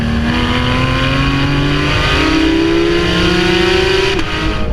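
A Porsche 911 GT3's 4-litre naturally aspirated engine revs loudly and close up, its note climbing smoothly through the gears in long rising sweeps before easing off near the end.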